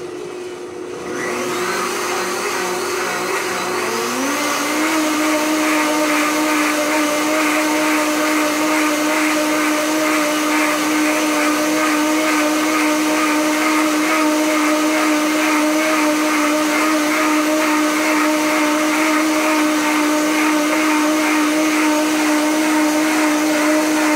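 A blender whirring through bacon-grease soap mixed with potassium hydroxide, spinning up within the first few seconds and then holding a loud, steady motor drone alone.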